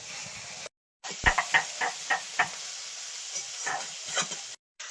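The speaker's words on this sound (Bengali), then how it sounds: "মাছগুলো হালকা করে ভাজবো।" Rohu fish frying lightly in oil, a soft steady sizzle with a string of sharp crackles and pops as pieces hit and settle in the pan, close and fairly quiet.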